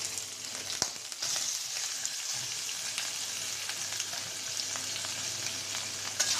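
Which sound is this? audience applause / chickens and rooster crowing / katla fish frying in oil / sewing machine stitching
katla fish frying in oil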